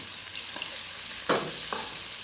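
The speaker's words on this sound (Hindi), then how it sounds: "4 से 5 मिनट तक फ्राई करेंगे।" Beef for charsi karahi sizzles steadily in a karahi, a constant frying hiss broken by a few soft scrapes and knocks as the meat is stirred.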